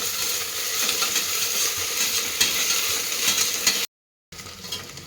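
Ginger garlic paste fries with onions in a pan, making a steady loud sizzle with scraping stirs throughout, then cutting off briefly to silence before the sizzling returns.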